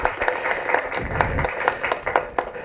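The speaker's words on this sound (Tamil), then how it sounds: "இது கைத்தட்டணும் நீங்கள் தயவு செஞ்சு" Scattered, modest audience clapping at a Tamil public speaking event, individual claps audible at irregular intervals, moderately close and fairly light.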